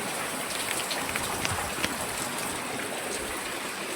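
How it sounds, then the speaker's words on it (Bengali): Rain falls steadily throughout, a soft even hiss with a few louder drops pattering on a nearby surface. "আজকের আমাদের এদিকে বৃষ্টি হচ্ছে"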